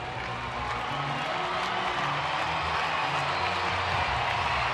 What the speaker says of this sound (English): Sellout crowd on Fan Appreciation Night trying to cheer on the Rangers